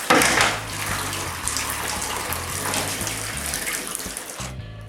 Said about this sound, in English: I soak the strips in hot water for 15 minutes.